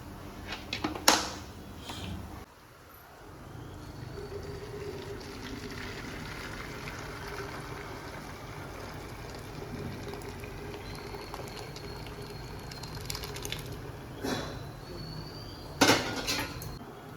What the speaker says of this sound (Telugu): ఇప్పుడు దీన్ని స్ట్రెయిన్ చేసుకోవాలన్నమాట